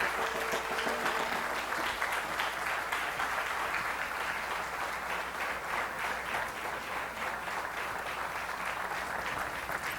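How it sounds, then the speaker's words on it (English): An audience applauds steadily throughout, a dense wash of many hands clapping at moderate distance, with no talking over it. "give one big round of applause for our last presenter"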